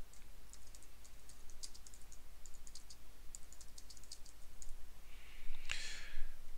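Fingers type on a computer keyboard in a quiet room, a run of light, irregular key clicks in short bursts, followed near the end by a sharper tap and a brief rustle.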